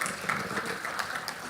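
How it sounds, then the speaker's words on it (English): A seated audience claps at a public investment financing strategy launch, a brief, moderately loud burst of dense applause from a crowd in a hall, steady through the short span. "so we can put our hands together for"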